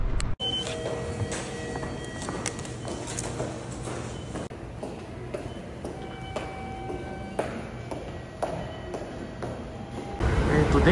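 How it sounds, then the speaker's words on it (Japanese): A Kintetsu commuter train pulls into a station, a steady rumbling roar with squeals and bright high-pitched tones over about eleven seconds, swelling again at the end, with faint station sounds around it. "電車が来たんですが、これ高安までしか行かないので、これはパスしましょう。"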